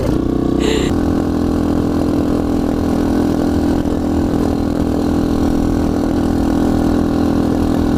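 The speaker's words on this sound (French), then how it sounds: "quand je la pousse dans l'accélération, ça fait un bruit, mais pétarade, c'est abusé." A motorcycle engine runs continuously nearby with a steady, buzzing mid-pitched drone and a brief sharper burst near the start; no distinct backfire pops stand out.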